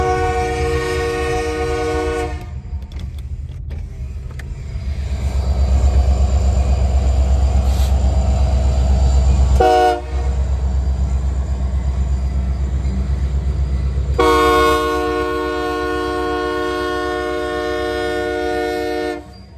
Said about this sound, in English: let's be quiet here and listen to the horn.